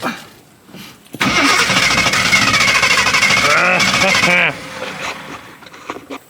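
A vintage 52-year-old Jeep Wagoneer with carburetor trouble cranks and catches, its engine roaring loud and rough for about three seconds before cutting out abruptly, leaving quieter background noise.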